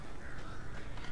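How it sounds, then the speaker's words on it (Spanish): Crow caws in the video game Alan Wake, a harsh bird call set over a dense, noisy ambient background, loud and continuous throughout the short stretch. "Todo tan tranquilo, pero se oye un cuervos"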